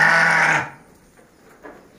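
Sheep on a farm flock of about 300 give a loud, close bleat lasting about half a second, after which only faint pen noise and a soft distant bleat remain.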